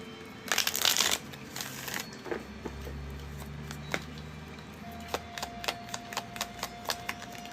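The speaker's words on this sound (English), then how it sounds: "One more shuffle." Tarot cards are riffled in a quick papery burst, then tapped and handled in a series of soft regular clicks.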